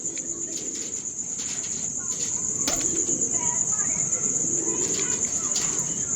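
A rare grey Ferozpuri-type pigeon coos softly in low, rounded murmurs beneath a constant shrill chorus of crickets, with faint background voices.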